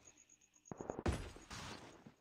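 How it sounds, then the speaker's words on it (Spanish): Video game gunfire: one sharp shot cracks out, then a rough burst of shooting follows. Soft steps and a thin, steady insect-like chirp run underneath, with no talking. "escuché un disparo por acá"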